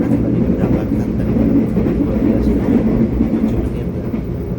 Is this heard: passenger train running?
yes